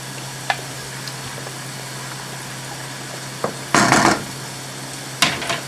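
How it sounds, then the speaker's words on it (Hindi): Yogurt being stirred into fried masala in a pot for mutton korma: soft sizzling under a few scraping clinks and a louder clatter of a spoon against the pan, with no talk. "दही चला गया, इसको जल्दी से मिक्स कर लेते हैं ताकि इसमें जो है लम्स ना बने"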